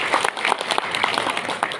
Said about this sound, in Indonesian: Tepuk tangan dulu buat kita semua ya.